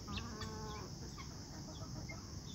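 A flock of free-range chickens clucks and squawks as they are let out of the coop, a busy, continuous chatter of overlapping calls outdoors at low volume.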